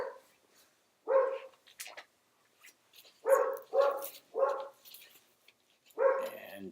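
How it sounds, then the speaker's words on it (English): Sharp indoor dog barks come in bursts: a single, a quick run of three, then another, with silent gaps between them. "my dog keeps barking."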